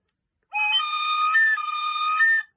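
A shrill, piercing tin whistle squeak from a hole not fully covered holds a high wavering pitch for about two seconds, loud and alone against silence.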